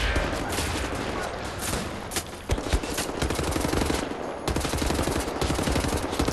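Rapid sustained gunfire from the video game Wolfenstein: The New Order, loud and dense bursts filling the whole stretch with only a brief dip midway.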